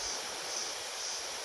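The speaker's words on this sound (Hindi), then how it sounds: "पहले ये शोर सुनो पानी का" A waterfall near Mussoorie, Uttarakhand, rushes in a steady, dense roar heard up close, with no other sounds.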